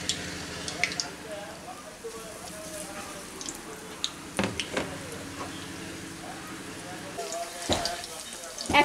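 Pumpkin fritters frying in oil over a medium flame, a soft, continuous bubbling crackle with occasional sharper clicks and pops from nearby.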